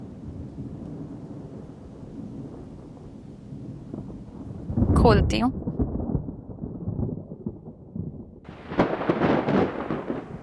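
Thunder rumbles loudly in a brief burst amid steady rain, with a voice speaking briefly near the end.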